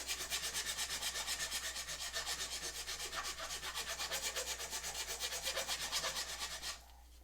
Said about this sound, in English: Now I'm going to switch to the file.